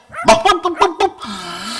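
A small dog yaps in a quick run of five or six sharp, high barks close by, then lets out a softer whine.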